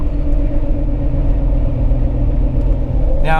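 A turbocharged car engine rumbles loud and close as the throttle is released, holding a steady low drone throughout with a brief higher rattle at the very end.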